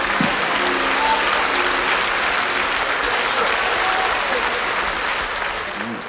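Dense, steady applause from a large concert audience fills the whole stretch, loud and sustained with a faint murmur of the crowd underneath and a few low tonal sounds near the start.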